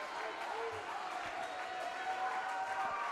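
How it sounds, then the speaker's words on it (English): A women's college volleyball crowd roars and applauds at match point, a steady loud wash of cheering in a gym while a commentator talks over it. "SVU's crowd getting crazy here"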